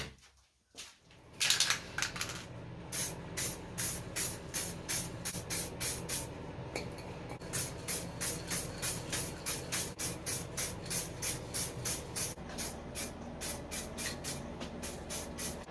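Spray paint applied to a restored treadle grinder in many short, regular bursts, a steady rhythm of close hissing puffs running throughout with a brief pause near the start.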